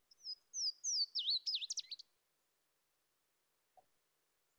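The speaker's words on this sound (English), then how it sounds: "It's Louisiana water thrush, one of our warblers." A Louisiana waterthrush, a warbler, sings a clear descending series of slurred whistles ending in a quick jumbled flourish, thin and fairly faint against silence.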